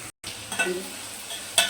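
Tomatoes softening in a hot pan for gongura dal curry, a soft continuous sizzle with light stirring scrapes, close and steady after a brief cut.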